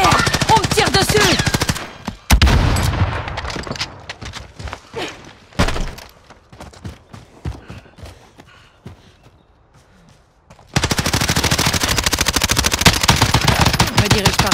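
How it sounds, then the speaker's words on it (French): Gunfire in the video game Warzone, with dense bursts of rapid automatic shots, loud and close, breaking off into scattered single shots and a quiet stretch before another heavy burst. "On me tire dessus!"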